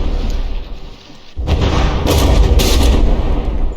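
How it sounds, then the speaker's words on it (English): Naval shells striking a battleship turret in From the Depths, heard as heavy, booming impacts that rumble loudly and continuously after a short lull, with several sharp crashing hits layered over the deep roar of battle. "Oh, that shell hitting right on the top of the turret."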